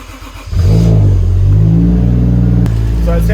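Toyota JZX car engine cranks briefly, then catches and settles into a loud, steady, close idle with a deep rumble; a short click near the end.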